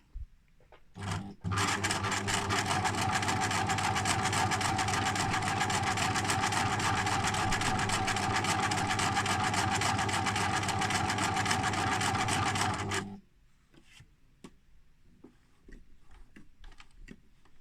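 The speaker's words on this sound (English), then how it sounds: "Remember to put the presser foot back down and then you can continue to sew." A sewing machine stitches appliqué fabric in one steady, fast whirring run of rapid needle ticks lasting about eleven seconds, then stops abruptly, leaving quiet handling clicks.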